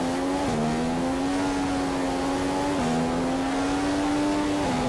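Formula One race car engine in the F1 2015 racing game, screaming steadily at high revs with quick upshifts that briefly drop the pitch before it climbs again, loud and close.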